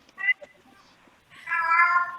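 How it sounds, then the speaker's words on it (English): Domestic cat meowing twice indoors, a short meow then a longer drawn-out one, close and clear against near silence. "Shh, that's my cat, sorry."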